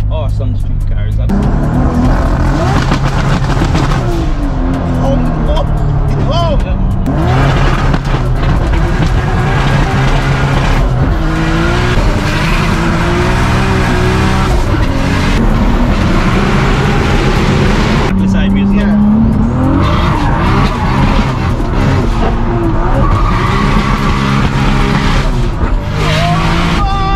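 A Toyota Supra making over 900 wheel horsepower spins its tires on a street in the Cayman Islands, its engine roaring loud and close for a long stretch with repeated tire squeals and shifting revs, while people talk over it.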